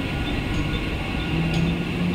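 Steady low rumble and broad hiss of a Mumbai fast local train at platform 4 of Chhatrapati Shivaji Maharaj Terminus, continuous and fairly loud throughout.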